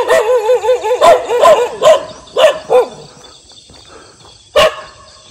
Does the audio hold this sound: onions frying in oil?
no